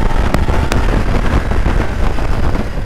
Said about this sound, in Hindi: थोड़ा जैसे बनेली का एग्जॉस्ट थोड़ा स्पोर्ट्स टाइप साउंड करता है